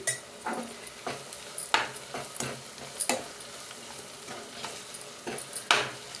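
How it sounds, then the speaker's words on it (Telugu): A spoon stirs fish with turmeric and chili powder in a pan, giving intermittent scraping and clinking strokes against a faint frying sizzle, close and without talk. "కొంచెం పసుపు ఒక స్పూన్ కారం వేసి బాగా కలుపుకోవాలి"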